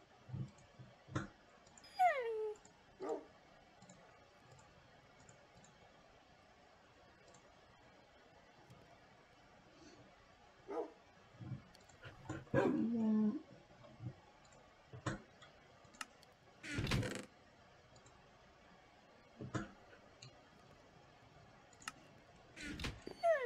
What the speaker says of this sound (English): Puppies want food and I don't have anything.